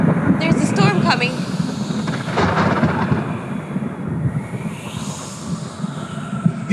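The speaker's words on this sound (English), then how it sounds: "There's a storm coming." A thunderstorm sound effect in a stage play: a dense, continuous rumble of thunder with rain-like hiss rolls on throughout, with voices from the performance mixed in over it.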